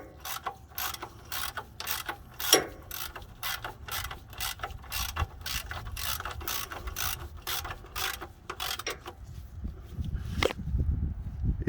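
A ratchet wrench tightening an oil drain plug during an oil change, a rapid series of crisp, close clicks in steady strokes, then a brief pause and a final few clicks with a low rumble, no speech.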